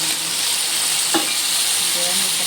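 Chicken with chestnut frying in oyster sauce and dark soy, a continuous close sizzle with a single brief stir or scrape of the utensil near the middle.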